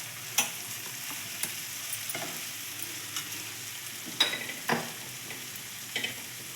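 Small cut mushroom pieces drop into a hot pan and start to fry with a soft, steady sizzle. Occasional light taps and scrapes of stirring come through, fairly quiet and close.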